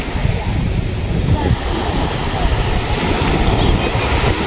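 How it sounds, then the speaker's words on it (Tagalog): Ocean surf washes in at a beach where people are swimming, a loud continuous roar of breaking waves mixed with gusty wind buffeting the microphone, while voices call out faintly underneath. "Nahampos po ang alon."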